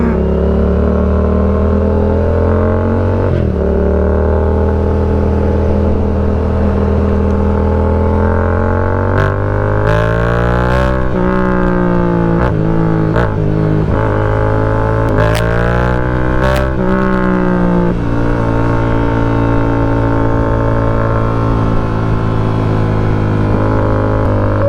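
Engine of a big motorcycle, the rider's dream bike, revving and pulling away while ridden, loud and close throughout with rising and falling pitch as it accelerates and shifts.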